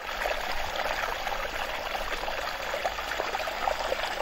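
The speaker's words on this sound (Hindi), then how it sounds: "हमारी मोटर चालू हो गई है और डिवाइस में पानी आ गया है।" Water from a farm pump pours into an irrigation timer device, making a steady, continuous gushing rush with a splashy trickling texture and no pauses.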